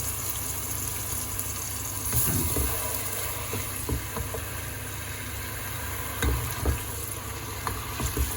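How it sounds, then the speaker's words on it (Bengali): Onions fry in hot oil with a steady, dense sizzle, and stirring scrapes and clinks now and then. The sound is close and continuous, with no talking. "তেল গরম হয়ে গেছে, আমি পেঁয়াজ আমি বেলাইলাম"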